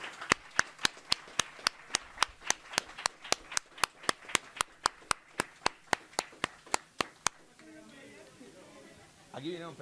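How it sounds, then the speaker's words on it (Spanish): At an anniversary event for a mobile clinic, crisp, evenly spaced claps beat in unison about four times a second for seven seconds, then stop, leaving quieter room sound and a brief voice. "Un fuerte aplauso para él."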